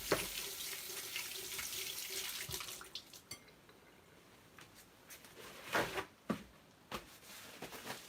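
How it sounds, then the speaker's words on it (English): Hands are washed under a running kitchen tap while cooking, a steady close hiss of water for a few seconds, then choppier splashes and faint clinks as the flow is interrupted, with no talk. "so I'm washing my hands"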